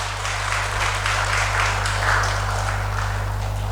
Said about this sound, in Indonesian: Tepuk tangan untuk mereka yang luar biasa.